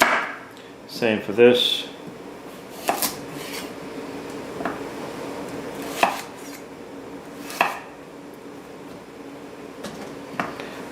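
A knife chopping carrots into quarters on a cutting board, with a fast burst of close, sharp taps followed by several spaced single chops; a voice speaks briefly between cuts.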